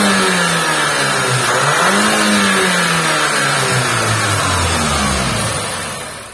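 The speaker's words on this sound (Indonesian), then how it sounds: "pengen coba denger raungan mesinnya dulu yang menghasilkan 320 PS dan torsi 420 Nm" A VW Golf R Estate engine rated 320 PS revs hard, its pitch sweeping up and down through several loud, close throttle blips before easing off at the end.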